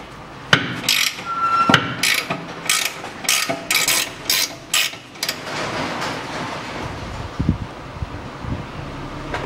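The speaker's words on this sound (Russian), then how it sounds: "Откручиваем болт внизу." A ratchet wrench loosening the lower 21 mm bolt on the rear strut of a Volkswagen Passat B6, a rapid, loud series of clicking ratchet bursts up close, then quieter metallic handling and knocks.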